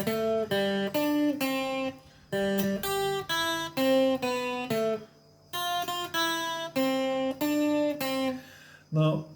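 An instrumental melody of Happy Birthday to You, played on a guitar as a clear, moderately loud line of sustained, plucked-sounding notes with short pauses between phrases, no talking over it.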